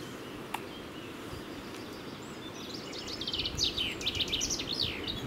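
Small birds chirp and trill along the Isar river, faint at first and then livelier, with rapid high calls against a soft outdoor hush.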